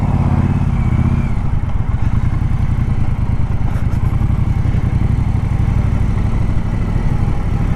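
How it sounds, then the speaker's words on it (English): A motorcycle being ridden, its engine giving a loud, continuous low throbbing rumble close up with a rapid steady pulse throughout, and no speech. "Glad to be back on a bike, even if it's just for an hour."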